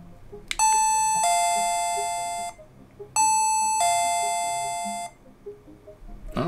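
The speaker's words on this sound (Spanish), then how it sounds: "Si llamo al timbre." A digital peephole camera doorbell plays two loud, clear electronic ding-dong chimes, each tone ringing out and slowly fading, with a short pause between presses.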